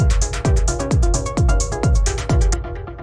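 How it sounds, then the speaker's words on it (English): Synthesized claps sound in a steady beat for a dark techno track, each one trailed by a ping pong delay repeating in 16th notes, with a deep booming low end under it. The hits are loud, close and rhythmic, and no voices are heard. "It's just like a clap, and then I've got this ping pong delay doing 16th notes on it"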